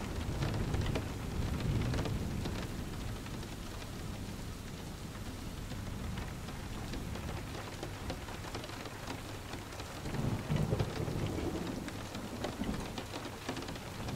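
In a thunderstorm, steady rain patters on surfaces close by while low rolls of thunder rumble twice, near the start and again later, with no voices.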